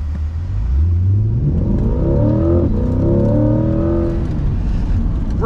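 A C8 Corvette in Sport mode with Performance Traction Management revs hard at full throttle, its close, loud engine note climbing steadily in pitch as it accelerates out of a turn.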